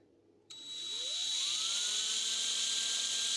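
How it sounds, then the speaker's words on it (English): A cordless drill boring a hole while making medieval-style sewing needles, the motor whirring up from a click into a steady high whine with rising pitch, close and continuous, alone without talk. "I'm gonna use the cordless drill here, and you drill one hole"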